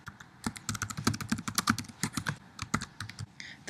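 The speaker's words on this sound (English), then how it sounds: "type in a subject." Computer keyboard typing, a thread subject entered on a discussion forum: a rapid, uneven run of close, crisp key clicks lasting a few seconds, with no talking.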